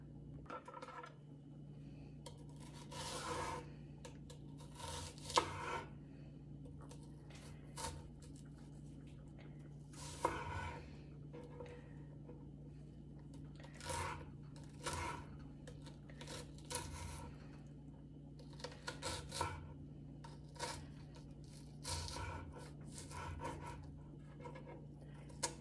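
Knife chopping mushrooms and garlic on a cutting board, a series of irregular quiet taps and cuts over a faint steady hum, with a few brief pauses between bursts.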